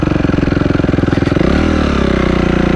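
An enduro motorcycle engine on a slope pulses in a rapid, throbbing rhythm, then revs up into a higher, smoother drone, loud and close.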